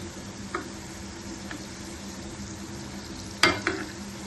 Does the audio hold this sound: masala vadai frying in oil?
yes